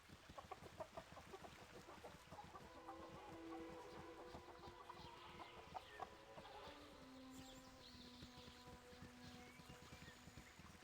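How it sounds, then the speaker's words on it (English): Chickens cluck in the video game Baldur's Gate 2, a quiet scene of repeated fowl clucks and calls with faint hoof-like clip-clop and ambient game sounds, no talk. "Still the chickens."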